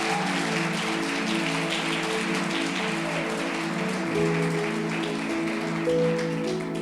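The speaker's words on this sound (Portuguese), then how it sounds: "Vamos aplaudir Jesus bem forte" Church congregation clapping for Jesus during a sermon, a sustained wash of claps over sustained tonal music with a steady chord underneath, with no voice standing out.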